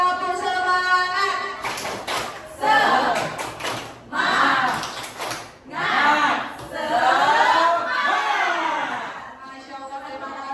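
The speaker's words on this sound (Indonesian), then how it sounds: "kita tepuk semangat dulu boleh?" A group of teachers does a rhythmic spirit clap, with bursts of clapping mixed with loud group chanting and shouting in a fairly reverberant room.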